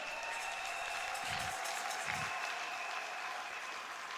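A church congregation applauds at a worship service, a steady, even wash of clapping with a couple of dull low thumps partway through.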